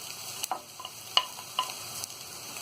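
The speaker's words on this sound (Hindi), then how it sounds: "इन सारी चीजों को हम हल्का क्रंची होने तक ही फ्राई करेंगे।" Capsicum, cabbage and carrot frying in a pan for veg momos, a steady soft sizzle broken by a few sharp stirring clicks and scrapes, heard close with no talking.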